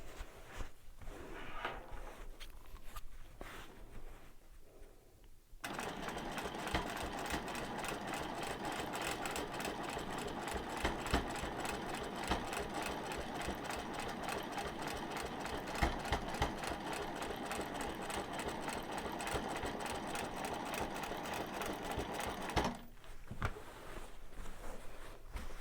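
Long-arm quilting machine stitching in the ditch along a quilt border, a steady continuous mechanical whir with a fine rapid needle rhythm that starts abruptly after a few quiet seconds, runs close and even for most of the stretch, then stops near the end.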